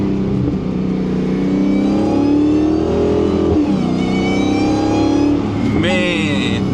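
Dodge Charger Hellcat accelerating on a wet road in Germany, heard from inside as a loud, steady engine roar with a rising supercharger whine that climbs through gears, a voice talking over it.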